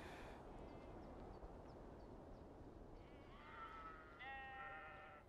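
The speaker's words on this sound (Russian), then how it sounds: "Овца уже там вся измучилась." Sheep bleating in the video game Beyond: Two Souls, a few drawn-out bleats rising near the end over a steady low background hum, moderately close and fairly faint.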